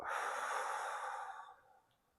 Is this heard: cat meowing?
no